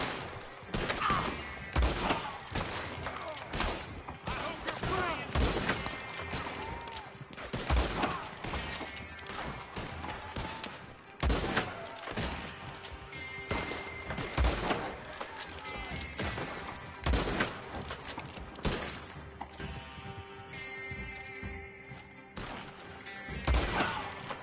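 Repeated gunshots ring out in Red Dead Online, sharp cracks and bursts spread across the scene with some overlapping volleys, with a voice talking over the shooting.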